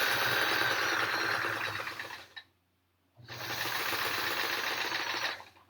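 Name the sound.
quiet sewing machine stitching a quilt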